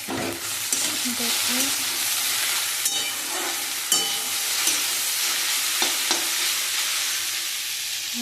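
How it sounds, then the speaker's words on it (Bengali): Okra frying in a pan late at night, with a continuous loud sizzle and scraping spatula strokes stirring it, plus a single brief spoken word. "ঢ্যাঁড়সটা ভাজা ভাজা হয়ে গেছে"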